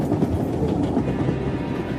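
Train rolling along the rails with a steady rumbling clatter and soft rhythmic clicks, continuous and fairly close, heard on board with no voices over it.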